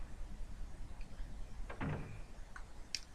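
A door opens in the Silent Hill video game, a short creak and clunk rising out of a quiet, low ambient drone, followed by a faint click.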